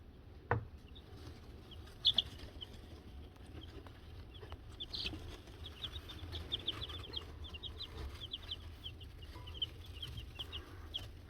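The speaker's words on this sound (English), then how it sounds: "We got some wild birds coming into the little patio area here, and they're flying around, so Puppy's trying to spook them back out." Chickens cluck steadily in a small patio while wild birds flutter and chirp around them, with a few sharp calls rising over a constant low outdoor rumble.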